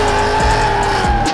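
Drift cars in a tandem battle at a Klutch Kickers 100k Drift Series round: loud, continuous engine roar under sustained screeching tire squeal, heard up close.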